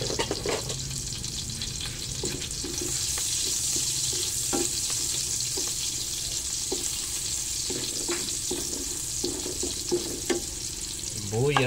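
Garlic frying in cooking oil in a pan, giving a steady, close crackling sizzle throughout with occasional clicks of stirring.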